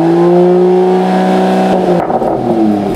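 A Renault Megane 1.5 dCi diesel engine revs loudly up close in Sport Plus mode, a rising drone that drops and roughens midway as the throttle shifts.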